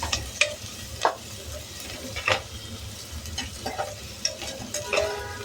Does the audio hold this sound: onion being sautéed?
yes